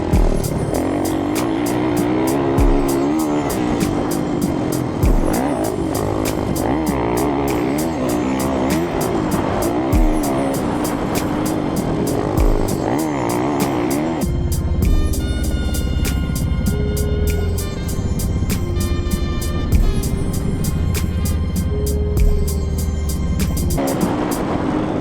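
A motorcycle engine drones steadily through a lap of a race track, staying loud and continuous with shifting pitch as it accelerates and eases through the corners, and no voices over it.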